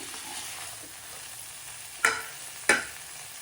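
Mixed vegetables frying in hot oil, a soft, steady sizzle with two sharp scrapes or clinks of a utensil against the pan near the end.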